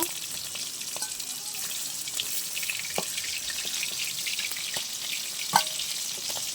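Steady crackling sizzle of fish frying in hot oil, with a few faint clinks and one sharper tap.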